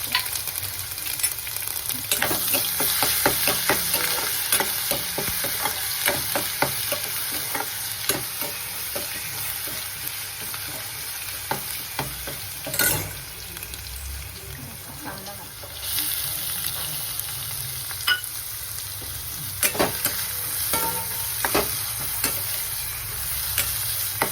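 Onions frying in a pan for a traditional home-style Indian eggplant curry, a steady crackling sizzle broken by repeated scraping clicks of stirring, close and continuous with no talk.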